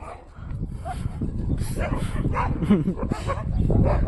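Street dogs in a fight yip and bark in a tangled burst over steady outdoor background noise, with voices mixed in.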